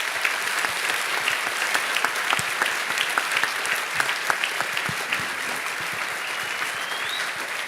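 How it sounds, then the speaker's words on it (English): An audience at a live debate event in a church gives a sustained, dense round of applause, many hands clapping steadily and evenly throughout with no break. "how about a tremendous round of applause for these guys?"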